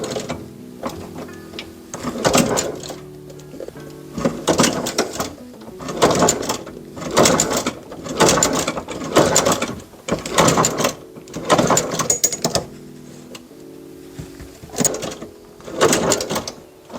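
A sewing machine runs a stitch down the back panel of a worn leather boot to secure loose stitching, in a string of short, close, loud mechanical bursts separated by brief pauses.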